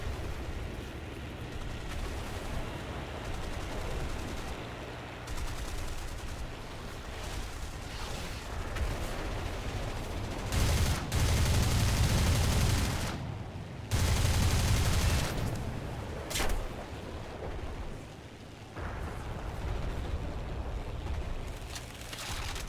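Machine guns rattle from an I-16 fighter plane in an aerial combat game, with sustained bursts of fire layered over a constant engine drone, the heaviest volleys landing midway through.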